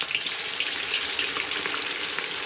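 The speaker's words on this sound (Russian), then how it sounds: "Будем жарить по 2." Stuffed wild duck sizzles in a hot pan with a steady, soft crackle of frying fat and a few brief pops, fairly quiet and heard on its own.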